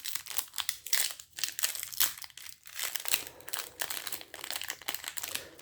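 Crinkly foil wrapper of a trading card booster pack torn and crumpled open up close, a steady run of sharp crackling bursts and rustles with no talking.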